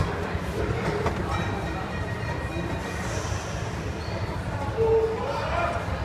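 A kiddie choo-choo train ride at Ibn Battuta Mall runs with a steady rumble and clatter inside a busy indoor space, with bright whistle-like tones near the end and people talking around it.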